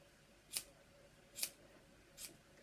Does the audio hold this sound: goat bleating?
no